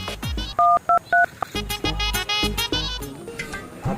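Telephone keypad tones beep in a quick series of distinct dual-tone presses, followed by further rhythmic electronic tones, loud and close with no voices.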